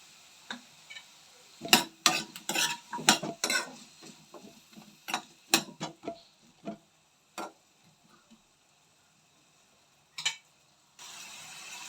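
Jackfruit pieces coated in turmeric, oil and salt are stirred and fried in a pan on high flame. Sharp, uneven spatula clicks and scrapes come close, then thin out into a quiet gap.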